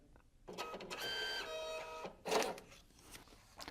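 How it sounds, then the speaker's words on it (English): A label printer connected to an iPad runs a test label print: a mechanical whirr with rising tonal motor whines, a brief gap, then a sharp feed-and-cut burst before it settles, heard alone. "select this print test label button to make sure that the printer"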